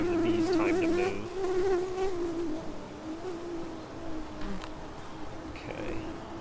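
Honeybees from a hive buzz close and loud as beehive frames are moved, a droning hum with wavering pitch that softens partway through and continues at a lower level.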